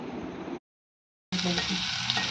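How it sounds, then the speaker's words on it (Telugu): Onion and green chillies frying in a pan, a close, dense sizzle broken by a short silent gap before resuming just as loud. "ఈ పచ్చిమిర్చి ఫ్రై అయిన తర్వాత ఆనియన్ కూడా యాడ్ చేసుకొని చక్కగా ఫ్రై చేసుకోవాలి."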